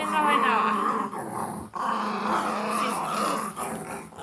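An excited dog whines and growls in a long, wavering, high-pitched cry that rises and falls with brief breaks, close and fairly loud, while a person talks to it.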